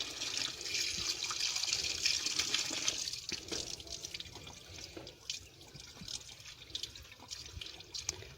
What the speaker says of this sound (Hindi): तो अब इनके ऊपर हम मज़ीद थोड़ा सा पानी के ज़रिए इनको धो लेंगे दोस्तों,